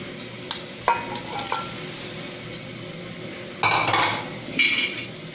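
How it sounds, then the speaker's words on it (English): Chicken sizzling in a pan for Shah Jahani qorma with yogurt, a steady frying hiss throughout, broken by clinks and scrapes of a spoon stirring the pot. "Then I'm gonna add the chicken."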